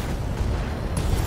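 Heavy mechs fire all their weapons at once in BattleTech, a loud, continuous roar of booming blasts filling the whole moment with no speech.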